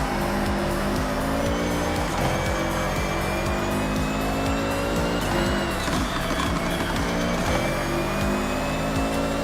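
AI race cars in Forza Horizon 6 roar past one after another, engines loud and close with layered harmonic whines and brief tire squeal, a continuous dense racing din with no talk.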